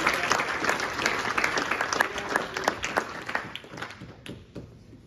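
A church congregation claps and cheers during an evangelical Sunday service, a dense, steady wash of applause that fades toward the end.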